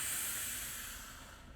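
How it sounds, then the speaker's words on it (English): One long audible exhale during a breathing exercise, a soft, breathy hiss that starts strong and gradually fades over about a second and a half, heard alone with no talking. "keep breathing like this as I continue talking"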